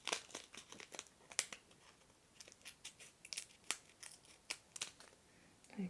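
Close-up crinkling plastic and a few crisp scissor snips as the corner of a small plastic bag of diamond painting drills is cut open, quiet and intimate with irregular rustles.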